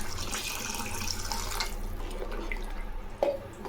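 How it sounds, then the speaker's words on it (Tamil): Water being poured into a pot of brinjal and potato kara kuzhambu, a steady splashing pour lasting a second or two, then faint trickles and a small clink. "இன்னும் கொஞ்சம் தண்ணி சேர்த்துக்கலாம்"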